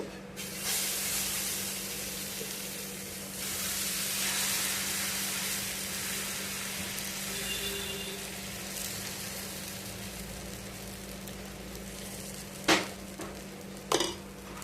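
Urad and moong dal dosa batter spread on a hot pan gives a broad steady sizzling hiss that swells and eases, with a couple of sharp utensil taps near the end and no talk.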